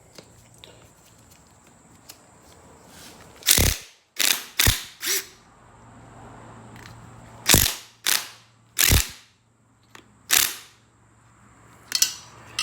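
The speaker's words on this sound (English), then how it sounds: "they gave me this whole impact kit, snap-on impact kit." A Snap-on impact wrench working on engine bolts of a D16Z6 engine, firing several loud, sharp, short rattling bursts, some in quick pairs, separated by quieter pauses, close up in a workshop.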